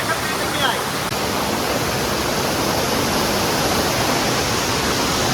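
Broad, steady roar of rushing water from a hidden waterfall deep in a jungle, loud and close, filling the whole clip without a break.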